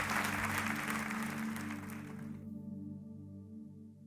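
A church congregation claps together, a full, even wash of applause that stops abruptly partway through, leaving a faint sustained musical drone underneath.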